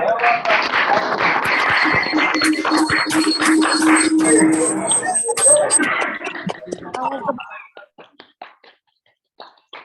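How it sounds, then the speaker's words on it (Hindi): Applause from participants unmuting on a video call during an online training session, a dense, clattering burst of claps mixed with voices and stray tones that thins out after about six seconds into scattered taps. "एक बार अनम्यूट करके जोरदार तालियों से इनका अभिनंदन"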